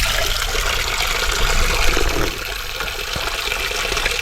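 Spring water flows steadily near a hilltop on Thavalagiri Hill by Tiruvannamalai, a close, continuous rushing splash that holds at an even level throughout with no voices.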